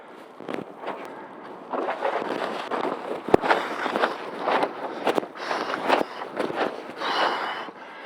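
Strong gusts buffet the microphone during wingfoiling on open water, producing loud, uneven rumbling wind bursts that rise and fall throughout, close and dominant.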